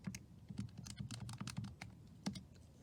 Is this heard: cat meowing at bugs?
no